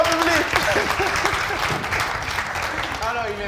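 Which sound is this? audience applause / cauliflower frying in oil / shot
audience applause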